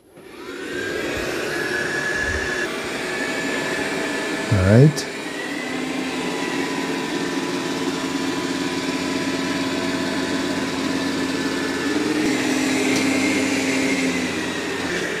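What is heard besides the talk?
robot vacuum cleaner vacuuming carpet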